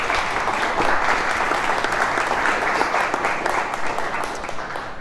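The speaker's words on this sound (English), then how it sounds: "Can we give them a round of applause for being here with us?" An audience at a healthcare lunch-and-learn event claps, a dense, even wash of applause that holds steady for several seconds and eases slightly toward the end.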